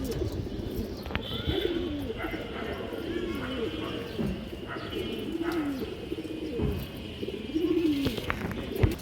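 Pigeons coo repeatedly nearby in soft, rolling low calls, several in a row, with faint clattering and background noise around them; among them an old male green pigeon.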